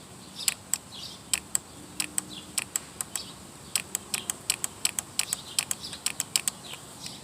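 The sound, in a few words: automotive electrical component clicking when powered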